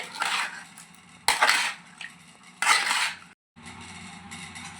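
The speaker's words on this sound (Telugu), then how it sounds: "పసుపు కొంచెం వేసి మొత్తం కలుపుకుందాం పక్కకు మొత్తం పట్టేలా కలుపుకోవాలి" Fish being mixed with turmeric in a bowl, with wet squelching and rustling in bursts and a few scraping clinks against the bowl, close by, broken by a brief pause, with no talking.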